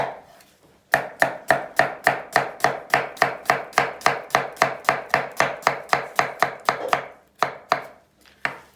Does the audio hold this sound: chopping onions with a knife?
yes